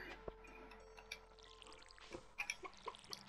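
Crops are watered in the farming video game Stardew Valley: faint small splashes and drips, a sharp tap early, then a cluster of soft trickling plinks, with no talk.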